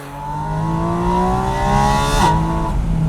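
A Porsche 718 Spyder RS flat-six shrieks at high revs between 8,000 and 9,000 rpm, a loud, close, sustained rising howl with strong harmonics, briefly dipping as it shifts before climbing again, with no talking.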